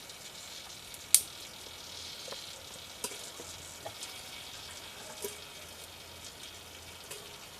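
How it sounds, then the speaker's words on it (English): A Kelly Kettle volcano kettle, fuel fed down through its chimney, coming to the boil outdoors: a faint, steady hiss and sizzle with a few soft ticks and pops, no voices. "I can hear it start to boil already."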